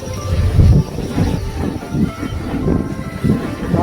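Wind gusts hard outdoors at a cooking spot where chicken is being fried over an open flame, making a low, rumbling roar that swells and eases against the microphone throughout.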